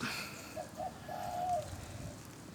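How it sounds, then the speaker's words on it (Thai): A decoy dove coos softly during a Thai bird-luring session outdoors, a few low rolling calls over a steady noisy background, faint and somewhat distant. "นกต่อเพชรนารายนะครับ"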